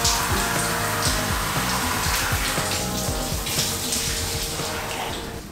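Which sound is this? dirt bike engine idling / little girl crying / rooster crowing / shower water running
shower water running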